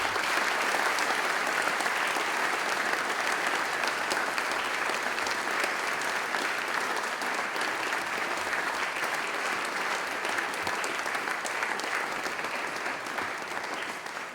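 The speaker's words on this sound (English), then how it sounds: "Please give them a round of applause." An audience at a school sport colours service applauds the coaches with sustained, even clapping that fills the hall for the whole stretch and fades slightly toward the end.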